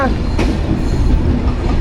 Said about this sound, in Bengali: খুলনা থেকে রাজশাহী কাভার করে এই ট্রেনটি